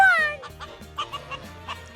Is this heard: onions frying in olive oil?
no